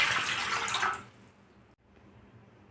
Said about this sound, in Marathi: आता आपल्याला यामध्ये पाणी टाकायचं आहे तर पाणी टाकूया